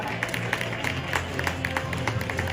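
Applause from an audience at a promotion congratulations ceremony, a brief patter of clapping held at moderate volume with the individual claps audible, no talk over it.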